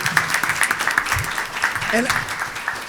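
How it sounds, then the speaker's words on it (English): An audience at a school board of education meeting claps for award-winning teachers as they return to their seats, a moderate round of applause with voices talking over it. "Let's have one more round of applause for these teachers as they take their seat."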